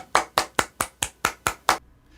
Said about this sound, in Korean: 여러분 뜨거운 박수로 이성원 강사님을 모시겠습니다